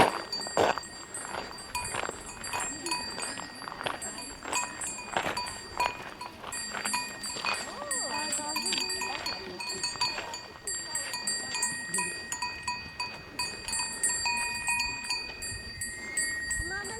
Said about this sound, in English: That's how the cows have come to play here.